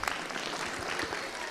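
Audience applause at a Christian gathering in India, a dense burst of clapping from a crowd that runs steadily through the short moment without a voice over it.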